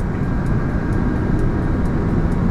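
A tractor-trailer truck rolls down a steep grade on the road from Calarcá to Ibagué with its engine retarder engaged, giving a loud, steady low rumble and drone close by with no pauses.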